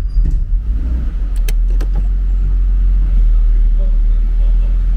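A 2013 Subaru BRZ backing up in reverse during a transmission test, giving a steady low engine and drivetrain drone throughout, with a few brief clicks and knocks near the start.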